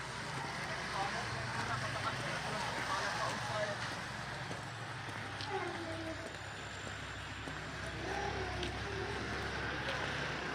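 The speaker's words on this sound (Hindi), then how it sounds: "ये भी बस मेन रोड है। ये आप मोटरसाइकिल वगैरह गुजरते हुए देख रहे होंगे।" Traffic on a main road beside plots of land in Islamabad, with motorcycles passing: a constant low roar of engines and wind, moderately distant, and someone speaking over it.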